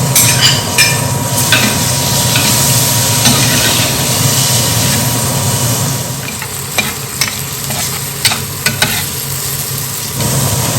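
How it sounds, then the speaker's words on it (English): One chopped onion hissing and crackling in a hot pan for a vegan vegetable side, a loud, steady sizzle with scattered clicks and scrapes of stirring throughout. "Go ahead and add the onions."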